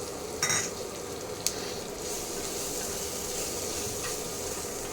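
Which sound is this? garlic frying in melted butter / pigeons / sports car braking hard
garlic frying in melted butter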